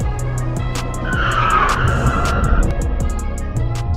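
A car with failing brakes skids, its tires squealing in a loud, sustained screech over rumbling engine and road noise, with sharp knocks and bumps along the way.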